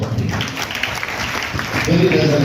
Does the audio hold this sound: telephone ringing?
no